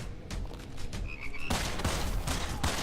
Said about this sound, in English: the heck is that last frog?